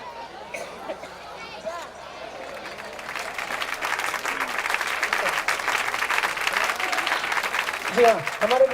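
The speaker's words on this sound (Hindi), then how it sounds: "जोरदार तालियां बजनी चाहिए हमारे सारे अतिथियों के लिए" At a school annual function, voices and a microphone announcement give way to loud, sustained crowd applause that runs for several seconds, with talk returning over the tail end.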